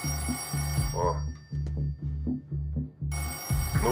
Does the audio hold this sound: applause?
no